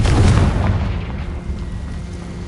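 A Confringo spell explosion in Hogwarts Legacy, a loud, deep booming blast that hits at once and rolls on as a rumbling tail.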